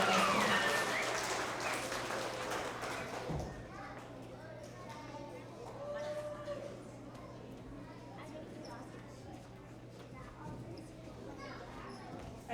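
At a kindergarten end-of-year award assembly, a group of kids and adults breaks into a short burst of applause. The clapping fades within a few seconds into children's chatter and an adult voice talking.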